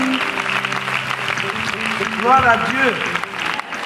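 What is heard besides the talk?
audience applause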